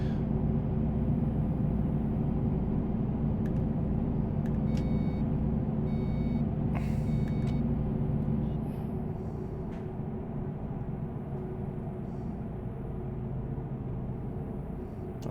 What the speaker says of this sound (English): I don't know if you can hear the bus sounds alright.